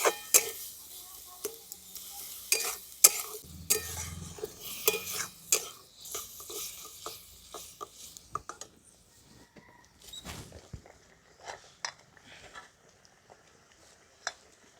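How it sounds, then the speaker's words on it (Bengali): Grated coconut and sugarcane jaggery are stirred in a pan, with repeated scraping and tapping of a spatula against metal in an irregular rhythm, close and fairly quiet, plus a faint low sizzle. "এই আখের গুড়টা দিয়ে আমি খুব ভালো করে নারকেলের সঙ্গে মিশিয়ে নিচ্ছি"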